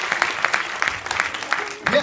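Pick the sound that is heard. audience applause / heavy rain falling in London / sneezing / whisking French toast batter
audience applause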